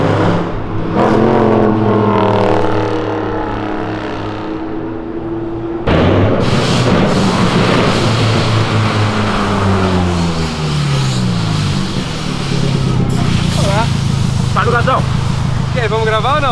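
Lamborghini roaring hard as it accelerates along a city avenue, loud rising engine sweeps and gear shifts in repeated bursts, with people talking and shouting over it.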